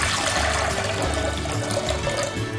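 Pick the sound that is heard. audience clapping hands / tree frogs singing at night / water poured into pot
water poured into pot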